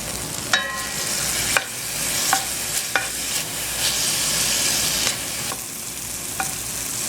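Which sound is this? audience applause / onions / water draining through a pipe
onions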